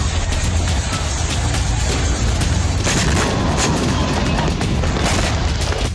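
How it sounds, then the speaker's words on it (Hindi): Phosphorus bombs from an Israeli army attack exploding in Lebanon, heard as a loud, continuous rumbling roar with crackling, gunfire-like bursts running through it and no voices. "लेबनान में अब इजरायली सेना ने फास्फोरस बमों से हमले शुरू कर दिए हैं"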